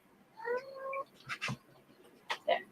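A house cat meowing nearby, a drawn-out tonal meow followed by a couple of shorter chirping cries, fairly clear against a quiet room.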